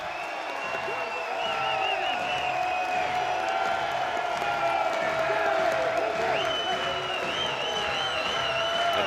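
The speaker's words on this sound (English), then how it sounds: "The crowd comes to its feet here on the 40 acres." A college baseball crowd at a Mississippi State versus Texas game rises and cheers with a steady, loud roar of voices and clapping, while a commentator talks over it.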